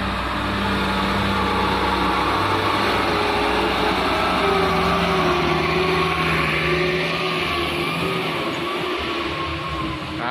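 A Hino Ranger FM 226 MD truck engine straining under load while hauling a palm-oil truck, a steady loud droning roar that holds constant throughout with no speech.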